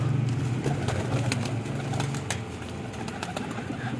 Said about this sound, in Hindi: ये देखें, हम इन कबूतरों को दाना वगैरह डाल रहे हैं, अंदर भी और बाहर भी।